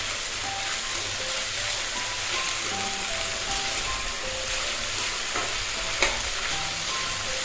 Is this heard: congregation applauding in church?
no